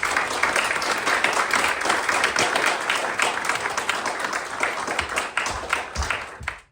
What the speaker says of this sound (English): So I believe they deserve an applause.